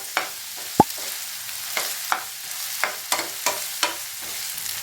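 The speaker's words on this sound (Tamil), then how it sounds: "இதில் இஞ்சி பூண்டு பேஸ்ட், கறிவேப்பிலை எல்லாம் சேர்த்து நல்லா கலந்துக்கலாம்" Onions stirred in a pan with ginger garlic paste and curry leaves while cooking prawn thokku, with a soft steady sizzle and a string of sharp scraping knocks from the spoon at an uneven pace.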